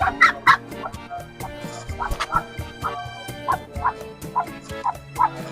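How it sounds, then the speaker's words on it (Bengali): Chinese geese, a male among them, give repeated loud honking calls in an irregular series near a backyard pen, with some low background bustle. "এই হচ্ছে আমার চীনা হাঁস এটা হচ্ছে মেল হাঁসটা"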